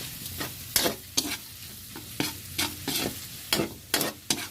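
Sautéed meat frying in a pan as it is stirred, a constant sizzle broken by repeated scraping strokes of a spatula at an irregular rhythm, close and clear with no talking.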